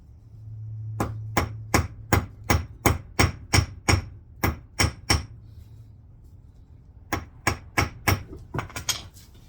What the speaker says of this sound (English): If you hammer it down, just pay attention and make sure that you don't you know, beat it too far to where it's going to cut your line